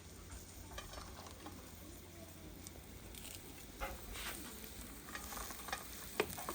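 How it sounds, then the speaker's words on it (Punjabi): Chopped onions and a mixed filling fry in a pan with a steady close sizzle. Repeated scraping stirs and small pops run throughout, with no one talking. "ਇਹਨੂੰ ਵੀ ਇਹਨਾਂ ਦੇ ਪਿਆਜ਼ਾਂ ਦੇ ਨਾਲ ਥੋੜਾ ਥੋੜਾ ਭੁੰਨ ਲਓ"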